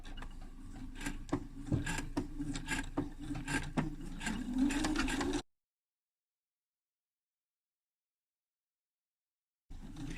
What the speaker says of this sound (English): I'm just going to stitch around the outer box of that welt.